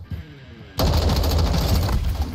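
Sustained automatic gunfire from Call of Duty DMZ bursts in suddenly after a brief quiet stretch, loud and dense, continuing steadily to the end without pause.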